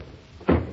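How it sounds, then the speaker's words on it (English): A single heavy thump against a stuck door in an old 1938 radio drama scene, one loud blow standing out briefly from a quiet room background. "Pound on the door."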